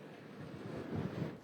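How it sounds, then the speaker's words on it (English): Strong gusts of wind buffeting an outdoor microphone, a rumbling, swelling low roar over a short stretch with no talking. "You can see the palm trees bending from the force of some of these gusts"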